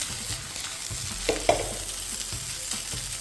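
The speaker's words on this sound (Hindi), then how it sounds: "ये क्रैकल की जो सिजलिंग की आवाज़ आ रही है" Tomato fried rice sizzles and crackles in a hot pan, a steady frying hiss with a few sharper pops, close and alone.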